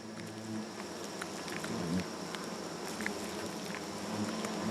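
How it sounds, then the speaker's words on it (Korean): A swarm of giant hornet workers chews meat in their nest, making a dense, steady crackle and buzz of tiny clicks and wingbeats close by. "전투에서 돌아온 일벌들이 고기를 씹습니다"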